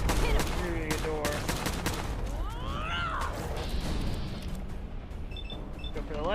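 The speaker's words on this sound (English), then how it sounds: "just unloading with my new gun that I've actually come to really adore" Shots from a newly acquired gun in the video game Fallout 4 crack out in a dense burst at the start, followed by scattered game effects and background noise.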